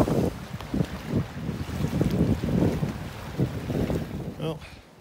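Strong wind blows at a lakeside camp, buffeting the microphone in gusty rumbling surges that rise and fall throughout.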